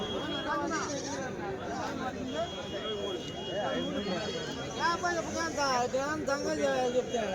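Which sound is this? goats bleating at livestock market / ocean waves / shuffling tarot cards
goats bleating at livestock market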